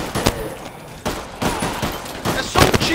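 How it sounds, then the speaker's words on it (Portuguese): Gunfire rings out in an online shooter game: several sharp shots and short bursts spaced over a few seconds, with faint game ambience in between. "É só um tiro, demônio."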